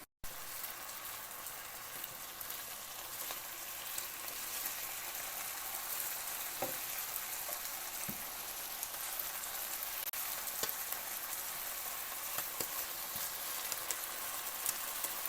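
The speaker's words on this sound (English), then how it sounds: "how long you should brown part of your chicken before you flip it over" Chicken pieces browning in a pan give a fairly quiet, even sizzle that holds steady throughout, with only a few faint clicks.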